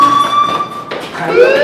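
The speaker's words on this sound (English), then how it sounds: "do you hear that fire alarm?" A fire alarm in the video game Life Is Strange rings with a steady electronic tone, with a voice speaking over it partway through.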